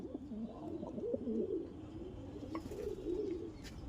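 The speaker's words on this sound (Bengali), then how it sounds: "এটা মঙ্গলগিরির পায়রা" Mangalgiri pigeons cooing softly, a series of low, throaty rolling coos close by, quiet and continuous with faint background noise.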